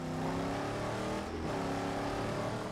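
Car engine revving hard under nitrous boost in the Mad Max video game: a loud, continuous high-revving engine roar with a dense, strained tone, holding steady throughout with only a brief dip in the middle.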